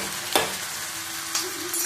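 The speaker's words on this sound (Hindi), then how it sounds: "तो ये देखिए 1 चम्मच अदरक लहसुन का पेस्ट है, तो इसको भी हम डाल के भून लेते हैं।" Ginger garlic paste frying with onions in a pan, a soft continuous sizzle broken by two brief scraping stirs, close and fairly quiet with no voices.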